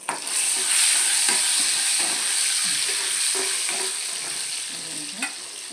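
A tadka for chakvat (bathua greens) bhaji sizzles in hot oil, loud and close from the start, a dense hiss dotted with small pops that eases slightly as it goes on.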